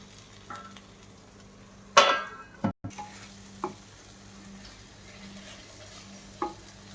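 A spoon stirs a tomato rice mixture as it sizzles in a pan, with a soft, continuous fry broken by a few scraping knocks against the pan and a sharp clatter near the middle.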